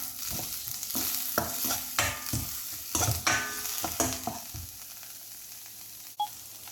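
Chopped onion being sautéed in a pan while a Punarnava (thazhuthama) leaf thoran is cooked, heard as a steady close sizzle broken by repeated scraping stir strokes that die away toward the end.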